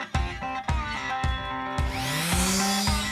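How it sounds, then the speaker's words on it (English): An electric sander with a high-grit pad works on old varnished wooden furniture, giving a steady motor whine that rises in pitch, with rhythmic knocking pulses underneath, close and fairly loud. "I've got a really high grit sanding pad on the sander"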